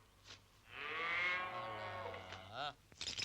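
A calf moos once in a long, drawn-out, wavering call that rises and then falls away, with no talk during it and faint rustling just after.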